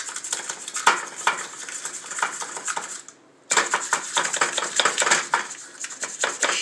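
Cupcake batter being scooped into paper liners in a pan for candy cupcakes, giving steady clattering scrapes and taps of utensil on pan, close and busy, with one brief pause midway.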